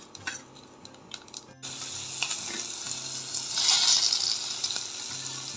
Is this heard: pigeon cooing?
no